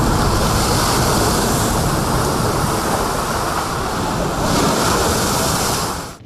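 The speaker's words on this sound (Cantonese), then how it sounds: "再有湧浪拍上岸" Typhoon storm-surge waves crash and wash continuously onto a Hong Kong seafront, a loud, steady roar of surf mixed with wind buffeting the microphone, with a stronger surge toward the end.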